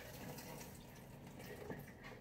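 Water is poured into a pot while cooking rice with vegetables, a faint, steady splashing trickle close by, continuous for a couple of seconds in a quiet kitchen.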